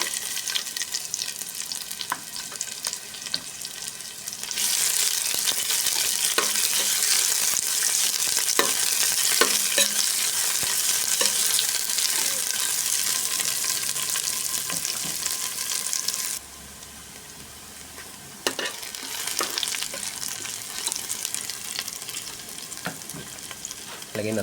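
Garlic and onion sizzle and fry steadily in a pan for sautéed ampalaya with chicharon and egg, with a loud, continuous crackle, occasional stirring scrapes and a brief quieter dip before the sizzle resumes.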